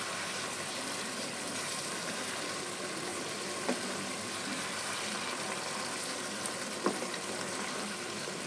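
A spiced dish dusted with garam masala is stirred in a pan on the stove, with a steady sizzle throughout and a couple of brief scrapes of the spoon; no one speaks.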